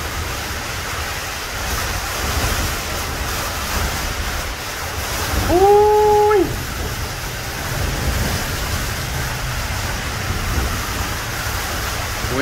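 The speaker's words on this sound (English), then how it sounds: "Windy as windy out there." Strong wind roars steadily outside with heavy rain hissing beneath, and a person briefly exclaims midway.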